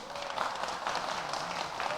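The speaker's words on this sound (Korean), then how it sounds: "일어나서 인사하실 때 박수 부탁드리겠습니다" Steady applause from a church audience welcoming elders introduced as competition judges, an even wash of clapping at moderate volume, fairly distant and sustained without breaks.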